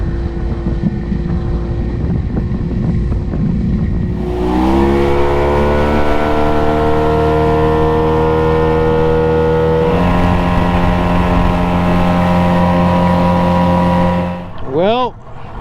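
A Yamaha outboard motor on a boat revs up and holds a loud, steady drone at speed, its pitch stepping higher partway through, with wind buffeting the microphone before the throttle drops off sharply at the end.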